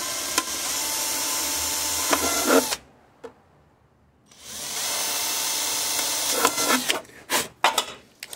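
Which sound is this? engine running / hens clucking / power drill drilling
power drill drilling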